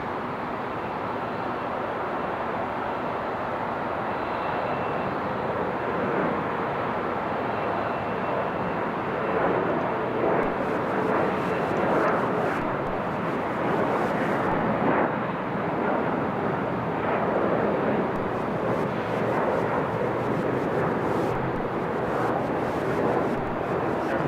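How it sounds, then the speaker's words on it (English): An Alaska Horizon Embraer E175LR regional jet departs an airport with a broad, continuous engine roar. The roar holds steady and loud for over twenty seconds, and a faint rumble and texture shift through the middle. "Our next for departure is going to be another Embraer E175LR heading to Idaho Falls with Alaska Horizons."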